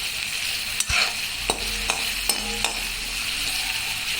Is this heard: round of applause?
no